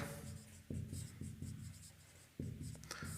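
Marker or chalk writing on a board during a lesson, close scratchy strokes coming in irregular bursts with short gaps between them.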